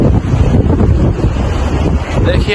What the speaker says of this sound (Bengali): সাথে সমুদ্রের অনেক ঢেউ আছে।